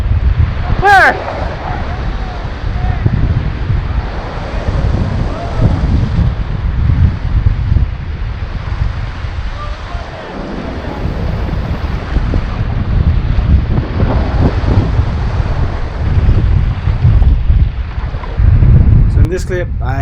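Ocean waves and gusting wind on a Hawaii shoreline while fishing for barracuda, a steady loud rush with surging swells and heavy wind buffeting on the microphone throughout.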